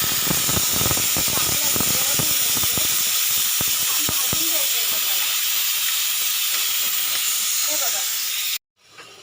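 Masala of ginger, garlic, coconut, onion, tomato and green chillies sizzling in hot oil for chicken, a loud continuous frying hiss with scattered pops and stirring clatter that cuts off near the end.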